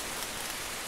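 Steady rain falls outdoors beside a mountain stream, a dense even hiss of drops with no other sounds in the brief moment.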